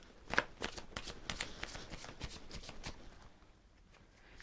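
A tarot deck gets shuffled, a soft rapid riffle of cards flicking and sliding against each other for a few seconds, close and quiet, then tapering off, with no speech.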